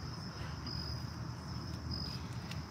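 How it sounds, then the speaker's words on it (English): Crickets chirp at dusk beside water during a catfishing outing, a dense continuous high trill with pulsing bursts over low background rumble, no talk. "Lots and lots of crickets"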